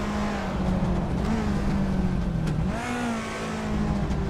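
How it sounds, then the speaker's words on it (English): A 1986 Ferrari 308 GTS engine drones steadily in a racing video game, holding a constant pitch that dips slightly and then rises as it revs back up, loud and continuous with no talk. "Vinha 17 is driving a 1986 Ferrari 308 GTS."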